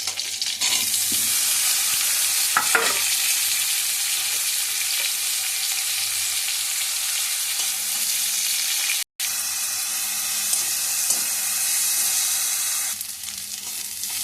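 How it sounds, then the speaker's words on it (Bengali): Two sliced onions sizzle in hot oil in a pan for a methi chicken curry, a loud steady frying hiss broken by a few scraping stirs and one brief cut, with no talking. "পেঁয়াজটা এখানে দেখো অল্প ভাজা হয়ে গেছে"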